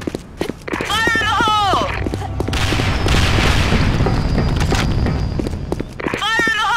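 Grenade blast in the Sudden Attack shooter, a heavy boom mid-round, surrounded by repeated shouted game voice callouts, footsteps and scattered gunfire.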